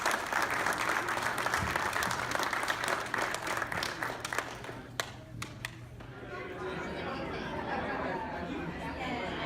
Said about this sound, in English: So again, round of applause for all the recipients